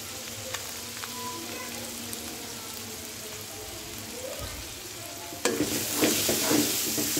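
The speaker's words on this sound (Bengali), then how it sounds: "বাটা মশলাগুলো একটু তেলে ভালো করে কষিয়ে নেব" Spice paste with chili paste frying in hot oil in a pan for a chicken curry, a steady crackling sizzle with occasional stirring scrapes, growing louder and busier toward the end.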